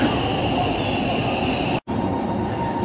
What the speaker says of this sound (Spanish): Subte de Shenyang.